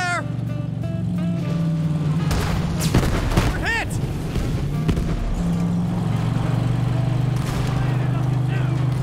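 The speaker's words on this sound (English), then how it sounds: "that tank! Got blasted!" A tank blown up in Borderlands 3 gives heavy booming blasts and gunfire amid a constant engine drone, with a voice speaking over the action.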